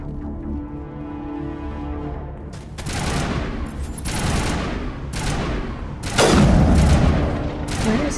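Bursts of gunfire and booming shots from the sci-fi shooter video game Mass Effect, starting after a quieter tonal stretch and then hitting in loud, repeated volleys with heavy impacts.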